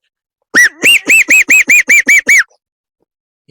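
A voice mimics a parrot with about nine rapid, evenly spaced squawking calls, loud and near, then silence.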